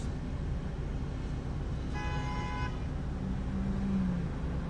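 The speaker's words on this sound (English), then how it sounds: "Who's honking at who?" A single short car horn honk rings out over a steady background of street traffic rumble.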